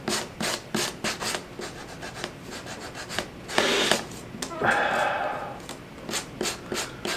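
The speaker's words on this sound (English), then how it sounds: "Make sure my sander's clean." A power sander works on wood for a Christmas tiered tray in short repeated bursts of rough scratchy rubbing, close and fairly loud, with a couple of longer passes in the middle.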